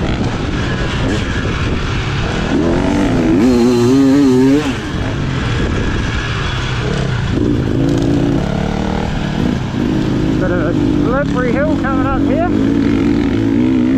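A two-stroke dirt bike revs loudly and continuously on a slippery grass and clay trail hill, its engine note rising and falling as the throttle changes, with wind rush and a voice over it.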